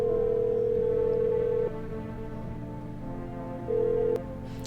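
Electronic phone tones in a video game as a call to FEMA is placed: a long steady beep, a quieter stretch, then a second shorter beep, all clean and close with no voices.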